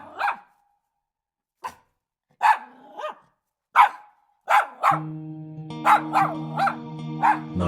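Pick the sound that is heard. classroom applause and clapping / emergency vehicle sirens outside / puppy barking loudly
puppy barking loudly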